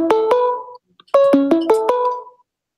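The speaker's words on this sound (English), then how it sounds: "I think Ronnie is getting a phone call, possibly." A phone ringtone for an incoming call chimes in an online group video hangout, a clear melodic pattern of bright electronic tones played twice with a brief pause between, close and loud, with no talk.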